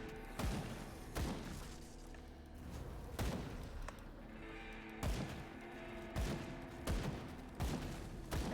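Repeated loud gunshots fired at a fence in the video game Grim Dawn, sharp booming reports spaced roughly a second apart over a low rumbling backdrop.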